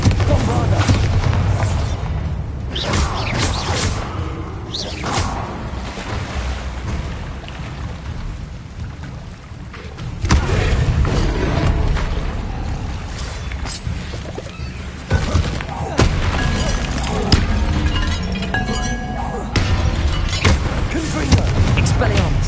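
Spell explosions from Bombarda and Confringo in the Hogwarts Legacy video game on PS5: repeated heavy booms and blasts over a continuous rumbling, rain-like wash of game effects, loud and dense throughout, with a voice speaking spell names over it.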